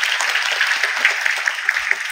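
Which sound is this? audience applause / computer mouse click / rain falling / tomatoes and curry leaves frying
audience applause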